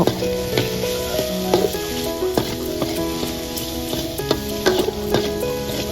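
River snails in their shells being stir-fried with holy basil in a hot pan, a loud close sizzle punctuated by repeated clattering scrapes and knocks of the spatula stirring the shells.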